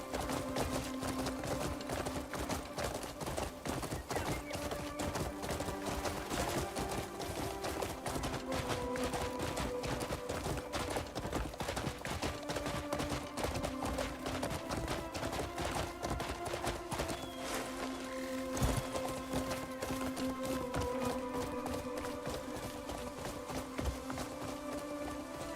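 Horse hooves in the Crimson Desert video game while riding, a steady, fast clip-clop of hoofbeats that runs the whole time over a tonal music-like bed, with no talk.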